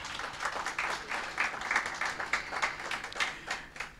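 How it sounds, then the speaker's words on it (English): A small crowd at a Jamaican heritage competition awards ceremony applauds steadily, the clapping moderately loud and continuous throughout without voices. "you all deserve a round of applause"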